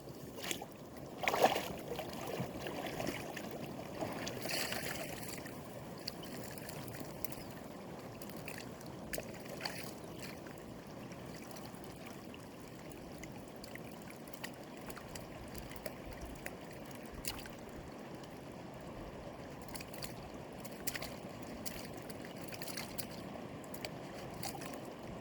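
Water rushing steadily through a gold sluice box, a soft continuous wash and trickle at low level with occasional faint splashes and knocks, no voices.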